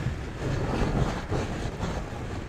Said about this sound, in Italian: Tira vento, tira vento!